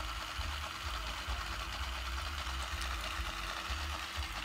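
A small motor in a LEGO toy tractor hums steadily and close, a constant low buzzing drone that runs without pause for several seconds.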